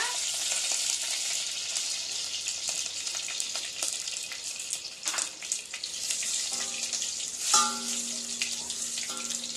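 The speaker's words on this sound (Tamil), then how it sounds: "வத்தல் வத்தல் போட்டுக்கோங்க அப்புறம் கருவேப்பிலை போட்டுக்கோங்க" Dried red chillies and curry leaves frying in sunflower oil for South Indian sambar, producing a continuous close crackling sizzle with sharp pops and spatters, plus a few brief clinks of utensils near the end.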